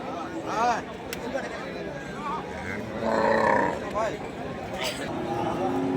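Sahiwal bulls moo at a cattle market, several low calls rising over a background of crowd chatter and nearby talking.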